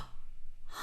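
An open-throat gasp made as part of a vocal exercise: a single sharp, close intake of breath, alone and breathy, with a rising rush of air at its end.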